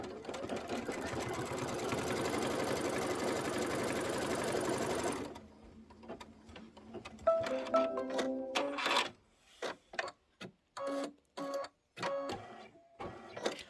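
An embroidery machine stitches a placement line on fabric for a Halloween broom pillow, its steady dense whir running for several seconds before stopping, followed by shorter bursts of clicking and handling noise.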